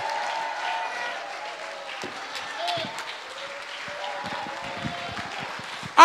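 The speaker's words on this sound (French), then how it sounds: "On se lève et on l'applaudit." Congregation applauding in a church service, dense steady clapping from many hands under a murmur of voices, ending in a sudden loud burst at the close.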